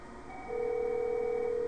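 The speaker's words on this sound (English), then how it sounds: "Now it's ringing the analog phone, as you can hear." Analog phone ringing on an Avaya PBX system, a steady electronic ring tone that starts partway in and holds at moderate loudness, alone with no talking.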